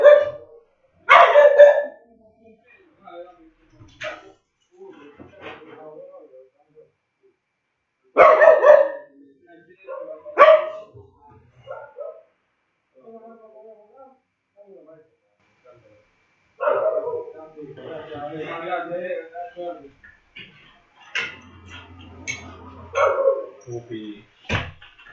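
A dog barks in loud, sharp bursts with pauses between, some yips and whimpers in the gaps, while a person speaks on and off nearby.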